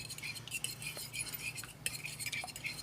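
An egg whisked in a bowl for a school foods class makes quiet, rhythmic clinks and light scraping of the utensil against the bowl, close by, with no talking.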